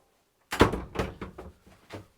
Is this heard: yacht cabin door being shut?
yes